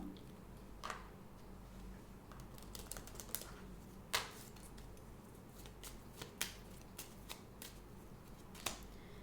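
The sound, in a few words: shuffling and drawing a Divine Doors oracle card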